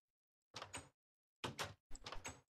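Wooden doors in the game Minecraft being operated, with three short, dry creaking thuds separated by silence, close and clear with no talk.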